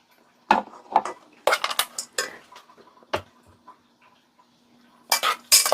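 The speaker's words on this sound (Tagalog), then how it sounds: "haluan ko na siya ng cat food" A spoon clinks and scrapes against a bowl while mixing cat food, giving sharp, close metallic taps and scrapes in irregular bursts with quiet pauses between them.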